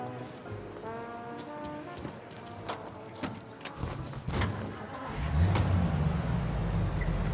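A car driving through city streets in Mafia Definitive Edition, its engine humming low and steady, then revving louder toward the end, with a few thuds along the way.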